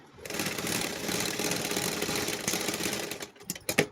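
A sewing machine stitches a pant in one loud, steady run of rapid needle clatter lasting several seconds, then stops with a few short bursts.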